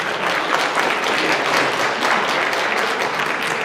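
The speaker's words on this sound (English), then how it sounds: "Please give a round of applause." Sustained applause from a large audience at a community meeting, dense and steady clapping that fills the whole stretch without a break.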